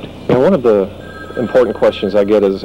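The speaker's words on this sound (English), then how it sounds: "You can hear the phone ringing in the background already." Telephone ringing in a TV station newsroom in 1995, a bright repeating ring faint in the background beneath a man's continuous close speech.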